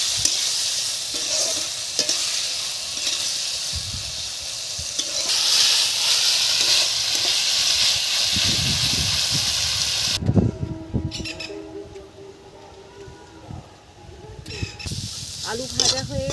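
Diced potatoes seasoned with salt and turmeric fry in a pan, with a steady sizzle and repeated stirring and scraping; the frying gets louder midway, then a clatter of utensils follows.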